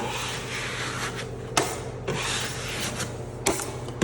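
A drywall knife wipes joint compound over tape on a sidewall in long, steady scraping strokes, close and fairly loud, with brief taps or knocks between passes.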